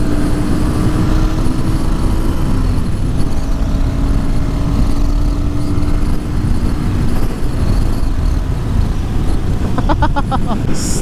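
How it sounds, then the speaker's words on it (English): Royal Enfield Guerrilla 450 motorcycle engine revving freely on the road, a steady droning motor note heard up close under continuous wind rush, with a rider talking over it. "This motor is surprisingly rev happy."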